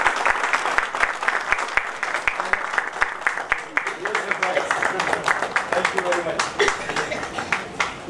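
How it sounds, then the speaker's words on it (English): Scattered applause from an event audience, with distinct individual claps ringing out regularly over a softer crowd wash and voices talking and cheering throughout. "Give him an applause,"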